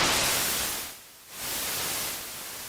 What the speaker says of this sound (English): You got a noise source.